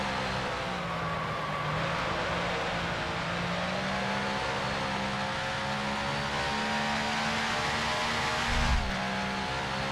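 Heavy 1955 Lancia D50 grand prix car coasting in a racing simulator, a steady engine drone with a low humming pitch that holds and wavers slightly, close and continuous for ten seconds, ending with a short thump.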